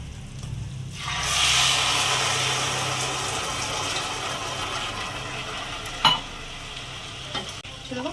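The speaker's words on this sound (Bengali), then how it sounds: "এবার আমি এর মধ্যে জল দিয়ে দেবো।" Water is poured into a pan of fried rice while cooking Bengali basanti pulao, a broad rushing, sizzling wash that rises sharply and holds steady, with a couple of brief knocks near the end and no talking.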